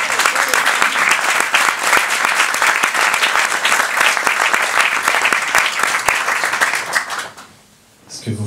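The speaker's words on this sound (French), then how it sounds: "On peut l'applaudir encore une fois" A concert audience at a live fingerstyle guitar show in Paris gives loud, sustained applause that dies away near the end, followed by a brief sound at the close.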